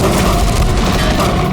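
Gunfire in a crime TV drama comes as a loud, dense burst of booming shots that runs unbroken for its short length, close and harsh, with no talking over it.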